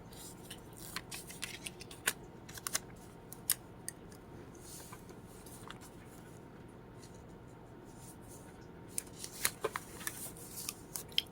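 Scissors trimming the white edge off transparent stickers, faint close snips and crisp paper clicks scattered irregularly over a quiet background, with no talking.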